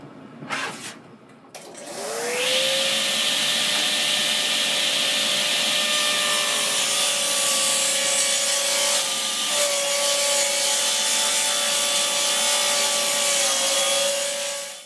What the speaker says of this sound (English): use the table saw, and I just got a new blade for it, and this thing cuts this oak like butter